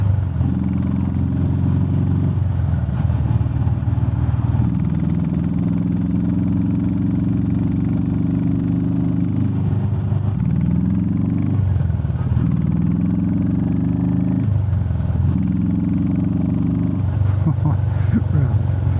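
A Royal Enfield Meteor 350 fitted with a DNA air filter idles and revs nearby, its loud throbbing single-cylinder note rising and falling in repeated blips, with a voice talking over parts of it.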